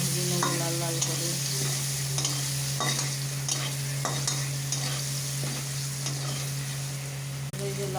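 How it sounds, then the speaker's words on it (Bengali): Chopped onion frying in hot oil in a pan while being stirred, a steady close sizzle with scraping stir strokes throughout, no talking. "আছে অল্প করে পেঁয়াজ কুচানোটা নিয়ে তেলের মধ্যে দিয়ে দিলাম। পরে আবার পেঁয়াজটা এটা ভেজে নেবো লাল লাল করে।"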